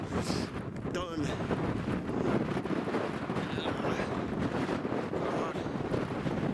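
Strong wind on an exposed hillside in the Cheviot Hills roars and buffets the microphone in a steady, dense rumble that never lets up.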